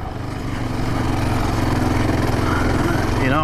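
A Yamaha Raptor 700R four-stroke ATV engine runs steadily and close on an off-road trail, its loud, even thrum swelling slightly near the end.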